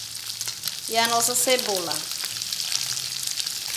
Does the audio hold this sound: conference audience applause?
no